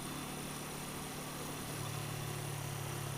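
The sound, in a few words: 1980 Yamaha XS400 Special II motorcycle engine running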